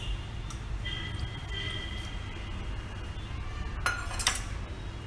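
Salad is mixed with chili powder, pepper powder and lemon juice in a bowl, with soft squishy tossing and a couple of brief utensil clinks over a low steady background hum.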